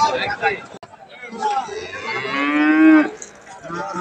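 A Friesian cow moos in one long, loud, rising call at a busy cattle market, with people talking and bargaining around it.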